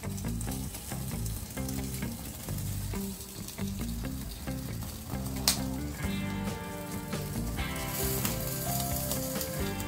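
Tandoori chicken roasts in a pan on the stovetop with a continuous, close, crackling sizzle that keeps an even level throughout.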